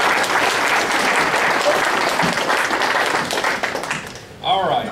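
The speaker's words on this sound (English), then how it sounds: "Let's give the legends a big round of applause." Loud, sustained applause from a touchdown club meeting crowd honoring football legends, dense close clapping that tapers near the end before a voice begins speaking.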